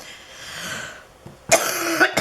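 A faint breathy stretch, then a few harsh, close coughs burst out loudly near the end.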